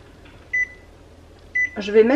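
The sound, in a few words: Cosori air fryer beeping while being programmed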